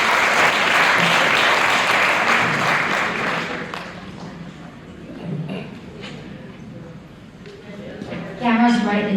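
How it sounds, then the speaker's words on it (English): Audience applause for speakers at a women-in-leadership summit panel, loud and sustained at first, then thinning into scattered clapping with voices chatting over it, and a brief renewed burst near the end. "Let's have another round of applause for them."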